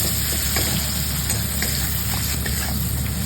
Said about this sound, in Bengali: ভাজা ভাজা হয়ে গেছে, এবার টমেটোটা দিয়ে দেবো।